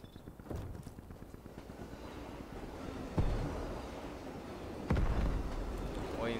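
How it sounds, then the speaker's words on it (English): A train rumbles past in the Call of Duty Black Ops Cold War video game, a steady low rolling roar with two sharp metallic clanks as the cars go by. "waiting until this train go by."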